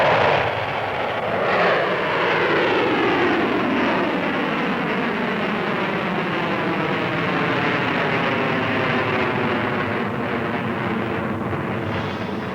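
A Pershing ground-to-ground missile fires and roars away, its broad, steady rocket rush holding loud and unbroken for the whole stretch with a slowly shifting pitch as it flies.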